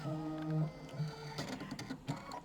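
An embroidery machine whirs with a mechanical hum after a wrong button press, its motor tones settling into faint, irregular clicks and rattles, fairly quiet.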